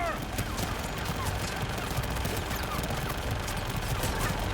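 Sustained gunfire from a Mass Effect 3 firefight, a dense, continuous rattle of rapid shots with sharp bursts throughout, loud and close, filling the whole stretch.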